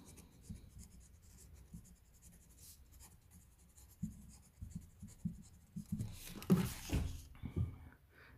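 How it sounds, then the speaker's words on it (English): Pilot Prera fountain pen nib scratching across paper, a soft continuous scribble of short strokes that grows louder and busier toward the end. "if I write just beneath this"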